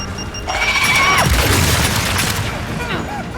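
Weapons fire in a Gears 5 battle against a carrier, a loud burst of booming shots and rattling gunfire with ringing tones, fading into a rumbling din.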